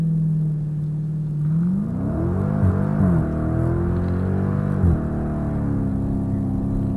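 A Dodge Challenger Scat Pack with traction control off launches hard from a steady idle. The engine rises in a loud revving surge and holds a strong, rumbling drone under acceleration, with a couple of brief shifts in pitch.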